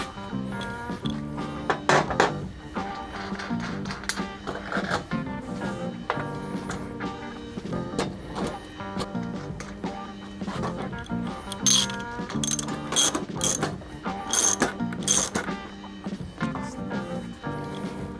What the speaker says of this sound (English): So we're gonna run it down tight to where you feel resistance on the bearings.